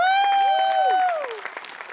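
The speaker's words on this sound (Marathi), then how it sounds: "प्रचंड टाळ्या." Studio audience at a Marathi comedy show breaking into applause, a dense clatter of claps heard beneath a loud sustained vocal tone that fades as the clapping thins out.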